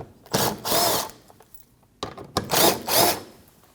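Power drill spinning out 8 mm bumper bolts under the front of a 2013-2019 Ford Escape: two pairs of short whirring bursts, close and loud, with brief gaps between them and no talk.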